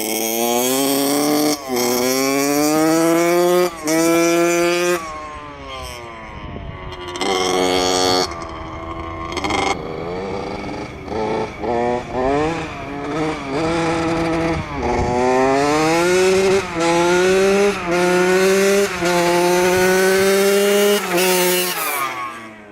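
Vintage dirt bike engine pulling down a road while shifting through the gears, a loud close raspy two-stroke-style drone whose pitch climbs, drops at each shift and climbs again over and over.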